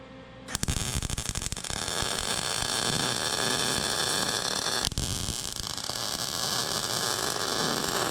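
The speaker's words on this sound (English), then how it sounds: "We pop this off and weld it off the bike." Welding a swingarm part for a Mega Moto 80/105 mini bike, heard as a steady, close crackling hiss that starts abruptly and runs unbroken for about eight seconds with no talk.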